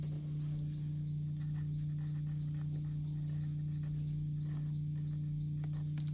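A marker or pen scratches out a word on an Easter wreath in short, quiet strokes over a constant low electrical hum, with no voices.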